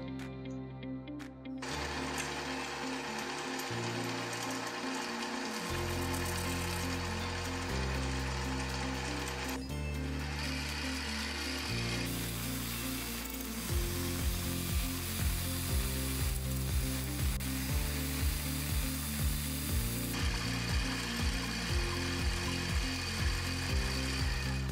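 A mini lathe machining a recess in metal, parallel to a dovetail for a sliding plate, runs steadily and loud with a rhythmic mechanical clatter and shifting tonal whine, with no voices.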